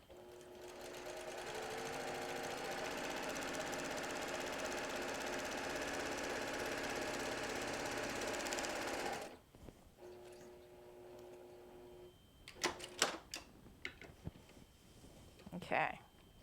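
A sewing machine stitches fabric on a log cabin quilt block, a steady close whir for about nine seconds before stopping, followed by a faint motor hum and soft handling clicks.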